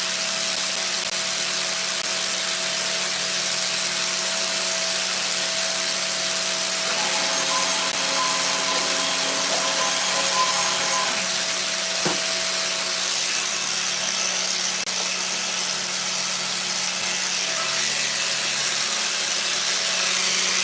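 A hot air dryer blows steadily on a freshly fleshed cowhide that still holds some moisture, giving a constant loud whooshing roar with a faint tonal hum that runs the whole stretch, with a few light handling rubs and no talk.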